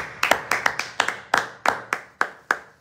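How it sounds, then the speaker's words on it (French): A church congregation clapping loudly in praise, sharp handclaps arriving in a quick, slightly uneven rhythm of about a dozen strikes, close and prominent with no talking. "Acclamez très fort pour le Seigneur"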